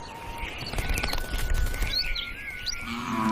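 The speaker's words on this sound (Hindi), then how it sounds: "चिड़िया के चहचहाट के साथ एक नई सुबह हुई" Small birds chirp and tweet in the morning with quick, bright calls. Several chirps overlap at a moderate distance against a steady outdoor background.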